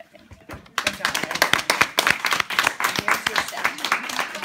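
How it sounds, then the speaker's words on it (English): A small group claps a round of applause at a piano graduation, a few pairs of hands producing sharp, closely spaced claps that start abruptly and continue briskly, with voices mixed in underneath. "we should give you one more round of applause"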